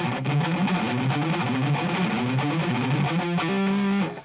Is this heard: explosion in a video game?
no